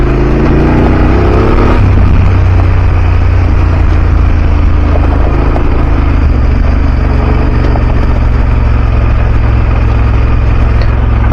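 Motorcycle engine running steadily while riding up a gully on a trail in France, a loud close continuous drone with a low rumbling throb throughout.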